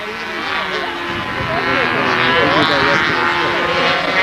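A propeller-driven model airplane drones close by, its engine note rising and wavering as it runs, with people talking over it on a windy flying field.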